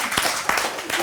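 A small group claps briefly at a French live stream, a few scattered hand claps over about a second with no speech on top.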